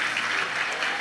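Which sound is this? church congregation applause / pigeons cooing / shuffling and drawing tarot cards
church congregation applause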